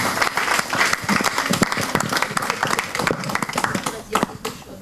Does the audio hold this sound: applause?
yes